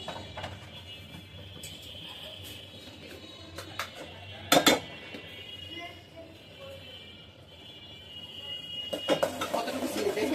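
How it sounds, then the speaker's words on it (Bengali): A spoon stirs sugar into payesh, a Bengali milk-and-rice pudding with nuts, in a metal pot. Intermittent scraping and clinks are heard, with a sharp clatter midway and more metallic knocks near the end, against a low background. "চিনিটা দিয়ে নেড়ে চেড়ে পায়েসটা নামিয়ে নিচ্ছি"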